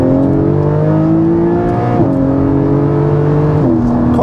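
A Porsche 718 Cayman GTS 4.0 engine pulls hard in second gear, its loud, close, rising drone climbing steadily with a brief dip at a shift before climbing again.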